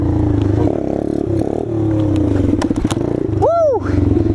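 Motorcycle engine revving hard during a wheelie in cold weather, loud and close with a rough, uneven roar. A voice gives a short rising whoop near the end.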